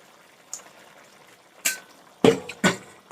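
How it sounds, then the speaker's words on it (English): Water splashes into a pot of simmering oxtail in a few short bursts, the last two louder and closer together, over a quiet background. "let me add some more water in this"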